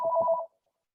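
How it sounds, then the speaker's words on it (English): A phone ringtone trills as a single steady two-tone burst for about half a second, then cuts off into silence. "my phone is ringing"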